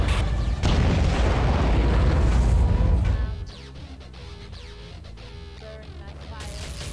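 A weapon shot in the underwater video game Aquanox erupts into a loud, sustained explosive boom that rumbles for about three seconds, then drops sharply into quieter game ambience and music.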